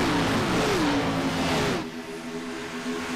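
Xfinity Series race car engines roar loudly at high revs during the Pepsi 200 at Atlanta, a dense pitch-sliding blare that drops off sharply as the cars pass.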